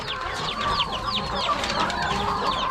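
Several chickens in a farm pen cluck close by in quick, overlapping bursts, a busy, continuous chatter with no one talking.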